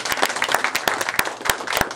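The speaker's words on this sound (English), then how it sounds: "Give them a big round of applause." Wedding guests at an Elvis-themed Las Vegas chapel ceremony clap loudly in sharp, close, fairly regular claps, suggesting a small group rather than a large crowd.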